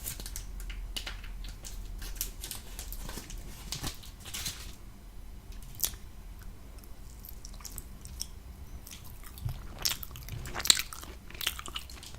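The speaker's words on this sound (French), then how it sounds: "Je vais maintenant goûter à la cacahuète." Close, crisp bites and moist chewing on a peanut-flavoured mochi filled with a peanut-butter paste, with irregular crunchy and squishy mouth sounds repeating steadily for about twelve seconds and no talking.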